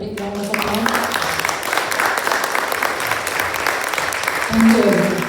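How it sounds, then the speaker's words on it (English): An audience applauds the panel and teachers at a stage event on the varnam genre of Indian classical music, a sustained burst of clapping with voices mixed in. "Please give them a big round of applause"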